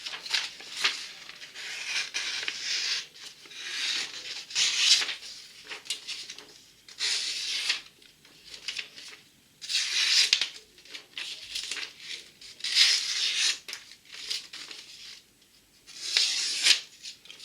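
A blade makes a test cut, with a series of rasping, scraping strokes in uneven bursts, each lasting a second or two and separated by brief pauses. Fairly close and moderately loud, with no voices.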